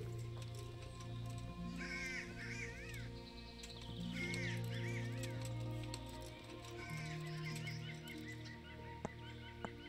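Several raspy raven caws come in scattered bursts over a continuous background drone in the medieval video game Kingdom Come: Deliverance, fairly close and clear.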